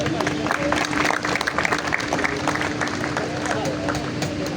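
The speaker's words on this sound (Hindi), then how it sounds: "बड़ा नाम है, ताली हो जाए यार।" Audience applause for a performer called to the stage at a live event, a steady dense patter of many hands clapping with crowd murmur throughout, fairly loud and continuous.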